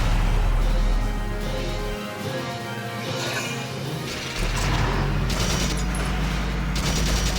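Underminer weapon fired in Valkyria Chronicles, a loud crashing, smashing burst with rumbling low end that dips midway and then swells back, steady and dense throughout with no talk.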